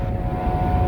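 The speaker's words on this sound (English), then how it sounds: "Now the engines start" Steady, loud low-pitched drone of ferry engines crossing the entrance to Galveston Bay, Texas, heard close with a constant hum and no speech.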